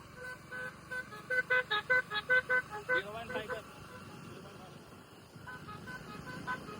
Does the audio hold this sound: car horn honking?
yes